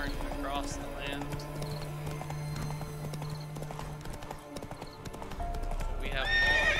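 Rhythmic video game hoofbeats clop along steadily, joined by a horse's whinny and game-like tones over a constant background mix.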